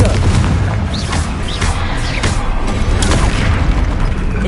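Spell explosions from Confringo casts in the Hogwarts Legacy video game, a dense continuous barrage of booming blasts and bursts with steady loud rumble throughout.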